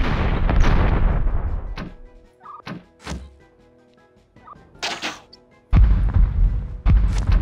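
Several heavy booming cannon blasts in succession in the game Dark Omen, separated by short gaps, with crackling debris and rumbling between shots; no talking.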